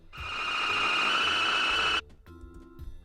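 A loud, sustained, metallic kaiju monster screech, heavily modulated and drawn from King Ghidorah, holds steady for about two seconds, then cuts off abruptly, leaving only faint scattered noise.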